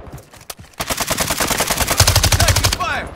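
Rapid automatic gunfire in Call of Duty Warzone Mobile, a dense close burst of evenly spaced shots lasting about two seconds after a single lone shot, loud and sustained, ending with a brief trailing rattle.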